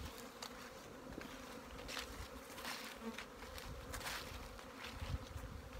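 Honeybees swarm around a yard of beehives on a calm, sunny morning, making a dense, continuous buzz of many insects. Individual bees drone louder as they pass close by.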